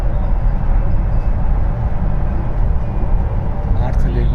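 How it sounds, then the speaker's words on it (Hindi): A metro train running fast rumbles and rattles loudly and continuously beneath someone talking, with a steady low roar throughout. "इसकी स्पीड देख रहा है मैं, मेट्रो की कितनी तेज चल रहा है"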